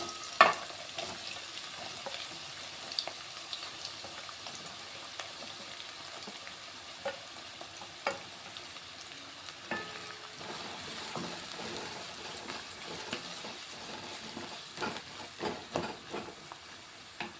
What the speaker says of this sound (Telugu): ఆయిల్ అయితే వేడవుతుంది ఒక్క బిర్యానీ ఆకు వేస్తున్నాను అలాగే కట్ చేసుకున్న ఉల్లిగడ్డలు వేసుకుంటున్నాను